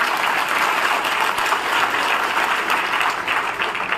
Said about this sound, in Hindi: ताली थोड़ा ठीक से बजा लेते हैं।